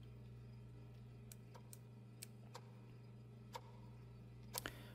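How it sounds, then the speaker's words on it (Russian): A clock ticks in a video game with sparse, irregular clicks over a constant low electrical hum, with one sharper double tick near the end. "Неожиданно тиканье часов затихло."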